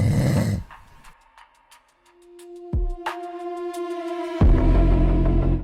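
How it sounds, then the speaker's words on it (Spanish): A dirty, unkempt man dozes and snores in an irregular, broken, intermittent pattern: loud ragged rasps alternate with quiet gaps, close up, and there is no talk. "dormita con ronquido irregular, entrecortado, intermitente"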